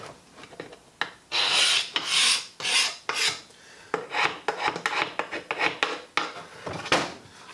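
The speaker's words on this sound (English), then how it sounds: "take a scraper, if you've seen me do before, scrape off any of the remaining glue on all these surfaces." A scraper rasps old glue off the seams of a tank in the workshop, giving repeated close, gritty scraping strokes in short uneven bursts with brief pauses between them, and no talking.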